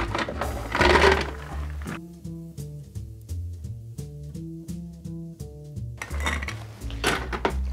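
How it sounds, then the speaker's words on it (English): A spoon stirring ice in a glass of Negroni Sbagliato made with Campari: rapid, bright, ringing clinks and tinkles, close and clear, framed by brief rushing noise at the start and end. "I'm just going to give this just a very gentle stir"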